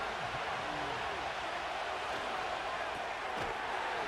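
In the Madden 25 football video game, the stadium crowd keeps up a continuous broad roar, with faint thumps and murmuring voices mixed in, staying at a steady moderate level.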